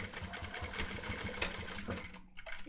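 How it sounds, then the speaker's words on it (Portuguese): A sewing machine runs steadily as it stitches along the edge of a simple fabric glasses holder, a close mechanical whir that pauses briefly near the end and then starts again. "Costurando. Alinhadinho a borda e termino com reforçando"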